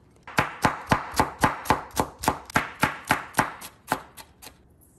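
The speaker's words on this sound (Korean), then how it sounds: "할로피노 고추는 반 개를 사용할 텐데요. 아주 잘게 다져주세요." A knife finely chopping half a jalapeño pepper on a board for a spinach pancake, with about fourteen quick, steady, close-up strikes in an even rhythm and no talking.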